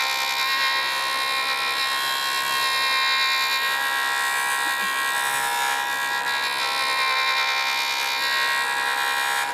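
Small rotary polishing wheel fitted with 9 micron microfinishing film, spinning at high speed against a resin jewelry piece held beneath it. A loud, steady high-pitched whine holds throughout, with slight swells in pressure and no talking.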